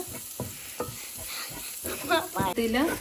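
A spoon stirs a frying chicken cutlet mixture with crushed pepper and garam masala in a pan, giving rhythmic scraping strokes over a steady sizzle, close and moderately loud.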